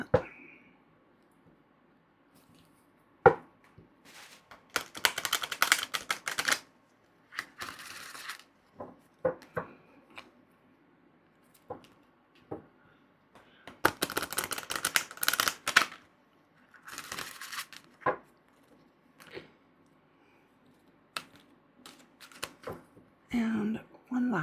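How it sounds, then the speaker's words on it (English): Large oracle cards from the Forest of Enchantment deck are shuffled sideways by hand, giving repeated soft papery bursts of sliding and riffling that come in uneven clusters, close up, with quiet pauses between them. "These are a much bigger card, so I'll just shuffle them sideways"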